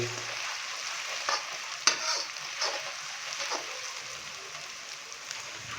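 Beef mince frying with ginger-garlic paste in a karahi while being stirred, producing a quiet steady crackling sizzle with a few sharper scrapes and clicks that fade toward the end.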